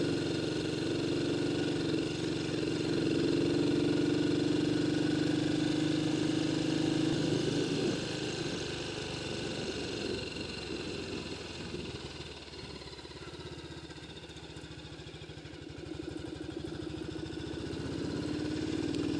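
A BSA C15 motorcycle engine chugs steadily uphill on a country road run, a low mid-pitched thumping drone that rises slightly and then eases, with no talking over it.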